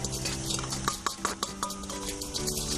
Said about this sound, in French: on va commencer à mélanger